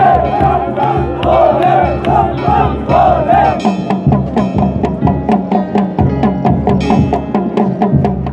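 A large crowd of devotees fills the Kedarnath temple courtyard after the evening aarti, a loud, continuous roar of chanting voices, with rhythmic clapping or drumming growing sharper in the second half.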